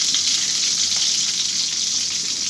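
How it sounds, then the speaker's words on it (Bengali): Fish fries in hot oil with salt and turmeric, giving a loud, dense, unbroken hissing sizzle close up, with a faint crackle running through it and no voices. "গরম তেলে মাছ দিলে এমন হবেই"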